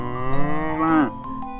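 A cow gives one long, close moo that rises and then falls off at the end, alone against a quiet background.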